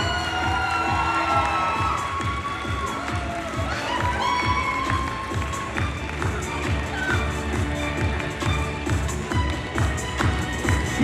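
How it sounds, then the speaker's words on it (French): Audience cheering and shouting for the newly crowned Miss Grammy France 2026 at a live pageant finale, a loud, continuous crowd roar with whoops and rhythmic stamping or clapping, with music and voices mixed throughout. "Un tonnerre d'applaudissements, s'il vous plaît, pour notre nouvelle Miss Grammy France 2026"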